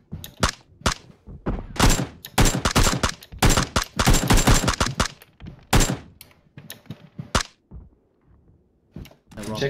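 Gunfire in a shooter video game comes as sharp bursts of rapid shots, several clusters of loud cracks separated by brief gaps, with quieter single shots later on.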